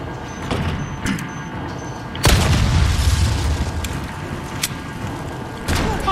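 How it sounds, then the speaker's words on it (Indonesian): A bomb blasts in the Resident Evil 4 Remake video game with one sudden, loud, booming burst that lingers as a rumbling roar over steady ambient noise. A few softer thuds come before it and after it. "Sini pasang lagi bom."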